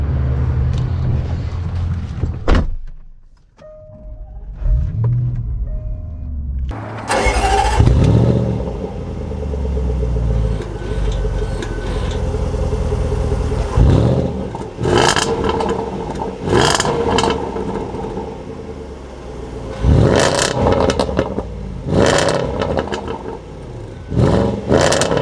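A high-mileage Range Rover Sport SVR starts up after a quiet pause and pulls away, its engine revving in loud repeated bursts over a steady rumble and clatter as the SUV drives off.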